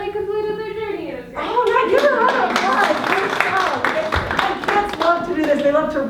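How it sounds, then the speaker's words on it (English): Scattered clapping from a small class of students in a language arts practicum, bursting in after a sustained voice and continuing unevenly under chatter and young voices. "give her a round of applause"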